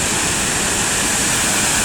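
A water feature splashes on a Hiroshima shopping street, giving a steady, even rush of falling water that fills the whole stretch with no voices over it.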